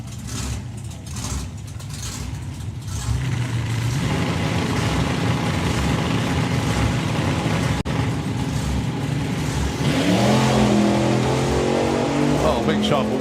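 A drag racing car at a hot drags event launches hard off the line, its engine rising from a rumble into a loud sustained roar that climbs in pitch, with a commentator talking over it.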